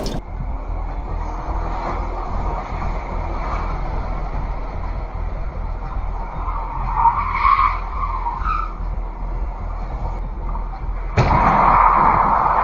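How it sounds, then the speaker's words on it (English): An SUV travelling at high speed in a tunnel slides out of control, bringing a sustained tire-skid screech over road roar and ending in a sudden sharp jolt. "The moment this SUV loses control in the tunnel shows how high speed can turn a familiar stretch of road into a risky situation"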